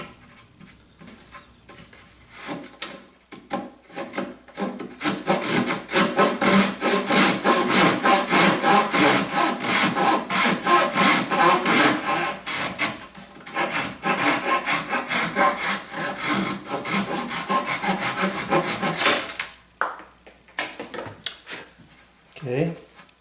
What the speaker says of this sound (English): I can get the rest with sandpaper.